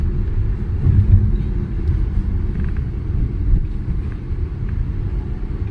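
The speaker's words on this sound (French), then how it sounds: "Enfin le bruit typique là, comme quoi c'est une voiture électrique." A Seres 3 electric SUV drives past outside, giving a steady low rumble of tyre and road noise with no engine note, continuous and fairly loud throughout.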